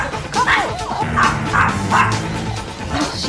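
A small dog in a coffee shop yaps and barks in short repeated bursts, close and loud, with whiny yips between barks.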